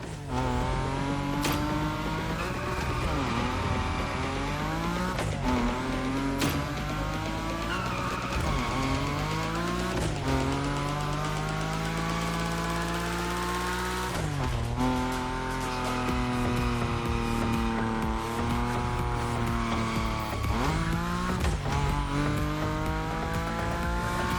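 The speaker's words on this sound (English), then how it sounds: "Your Nismo is powerful enough to slide along on its own when you're at high speed" A Nismo car at high speed in The Crew Motorfest, its engine droning loudly and continuously under long squealing tire slides whose pitch rises and falls, with brief gear-shift dips.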